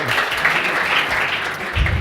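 Applause rises for team members being introduced at a 2009-2010 TCX event in Scorzè, a dense, steady wash of clapping from a crowd that carries on for about two seconds.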